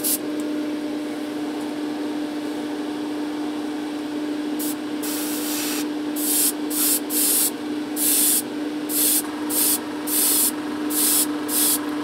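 A spray can lays a varnish coat on Suzuki RG250 motorcycle parts in a series of short, close, hissing bursts over a steady low hum.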